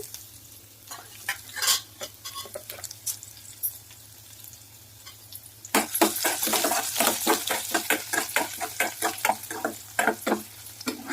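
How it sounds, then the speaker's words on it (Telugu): Garlic sizzles steadily in oil in a pan while stirring scrapes and clatters at close range, the frying growing louder and busier after a quieter start. "ముందుగా ఎల్లిపాయలు వేసి బాగా వేగనివ్వాలి."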